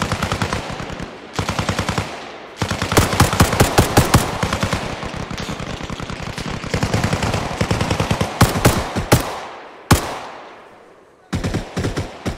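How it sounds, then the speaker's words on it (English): Rapid automatic rifle fire in ArmA Reforger during a night search-and-destroy mission, loud close bursts of sharp cracks separated by short pauses, with a long sustained volley in the middle and a single shot near the end. "Let me shoot him."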